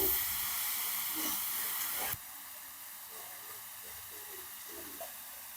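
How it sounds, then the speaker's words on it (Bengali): Water hits a hot pan of fried vegetables and spices with a loud, broad hiss that cuts off sharply after about two seconds and leaves a softer, steady simmering sizzle. "আমি এবারে জল দিয়ে দেবো"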